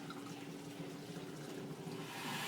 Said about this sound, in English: It's a jet that sprays on your clothes.